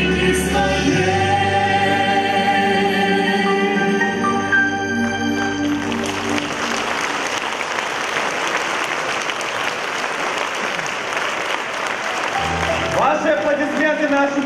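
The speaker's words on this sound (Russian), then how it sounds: "Ваши аплодисменты нашим участникам." An audience applauds contest participants at a patriotic wartime-themed performance programme; steady, dense clapping rises over fading music and carries on loudly to the end.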